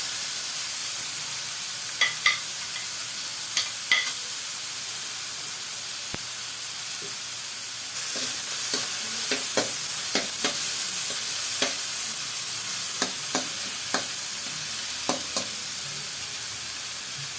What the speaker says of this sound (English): we will now add our tomatoes for the sauteing part. And stir.